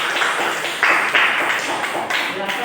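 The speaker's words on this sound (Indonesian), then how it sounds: "Tepuk tangannya." Classroom audience clapping together after a group presentation, a short burst of brisk, fairly close applause with uneven claps lasting a few seconds.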